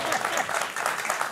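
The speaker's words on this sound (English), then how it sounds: "Now you could have clapped there" An interview audience breaks into brief, dense applause, a continuous patter of many hands heard at moderate volume.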